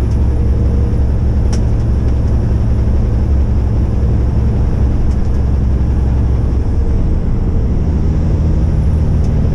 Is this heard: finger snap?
no